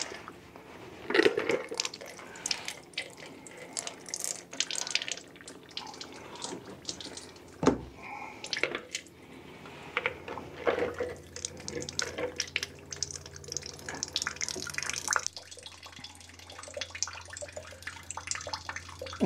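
Water drains from the washer system of a Jaguar XK8, a soft trickling and dripping with scattered splashes and small knocks, fairly quiet and close, with a faint low hum underneath.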